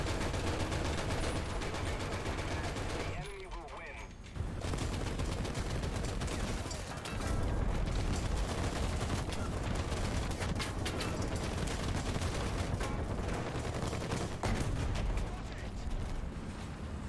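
Tank cannon and machine-gun fire in War Thunder, with an M4 tank in battle, a dense and loud run of booms and bursts nearly throughout, with a short lull early on.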